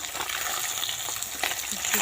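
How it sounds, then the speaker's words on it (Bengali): Steady loud sizzling of large pieces of catla fish frying in hot oil, constant and close, with faint scraping underneath and no voices. "মাছ ভাজতে বসিয়েছি এই দেখো"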